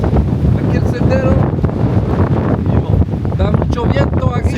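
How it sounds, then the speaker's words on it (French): Strong wind on a hiking trail, a loud, continuous gusty rumble buffeting the microphone while people talk over it. "Da mucho viento aquí. Il y a beaucoup de vent."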